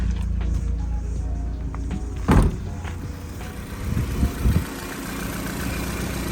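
A Honda Civic EF9 idles steadily while warming up, a low continuous engine hum with a couple of brief louder knocks and rattles partway through, no talking.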